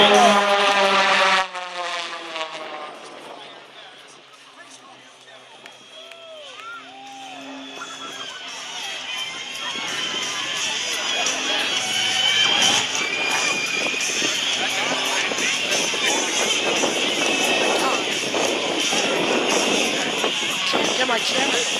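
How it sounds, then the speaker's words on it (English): An aerobatic airplane flies a display at the Wings Over Batavia airshow in Batavia, New York, its engine a steady broad drone rising and holding as it tumbles, with crowd noise and an announcer's voice over the top. "Flipping that airplane hand over hand, and he's just getting started."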